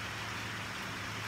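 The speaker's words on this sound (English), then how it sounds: "I know you hear this rain" Steady rain falls on a homestead, a continuous broadband hiss with a low rumble underneath, loud and unbroken throughout with no speech.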